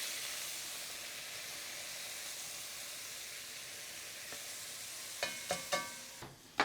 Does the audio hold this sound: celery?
yes